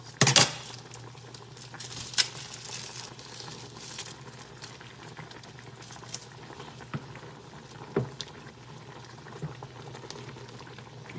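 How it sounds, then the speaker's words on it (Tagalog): Water boiling in a cooking pot for udon, a steady bubbling patter with occasional sharper pops and splashes, close and moderately quiet, no talking. "kumukulo na"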